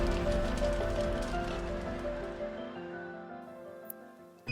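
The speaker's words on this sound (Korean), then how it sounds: "굵은 빛발이 세차게 몰아치기 시작했어요" Heavy rain pouring down in a storm, a dense, continuous wash of drops that slowly fades toward quiet near the end.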